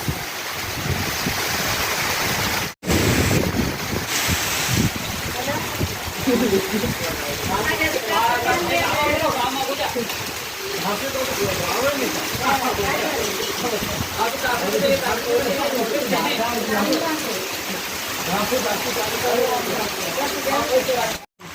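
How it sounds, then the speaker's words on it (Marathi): Heavy monsoon rain pours down steadily in a broad, loud hiss during the soybean harvest in farm fields, drowning out everything else, with voices talking faintly over the downpour. "बापरे एवढा पाऊस"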